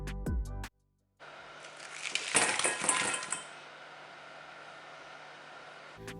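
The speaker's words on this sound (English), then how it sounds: "I purposely left the sound on that last clip because I wanted you guys to hear how crispy those wings were" Crispy chili lime chicken wings crunching close up, a burst of sharp crackly bites over a steady hiss, preceded by a brief low thump and a short silence.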